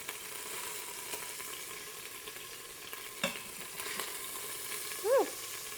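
Batches of beef fry in a pan for Korean beef, giving a steady low sizzle with a few soft clatters of stirring and a brief vocal exclamation near the end, close and fairly quiet.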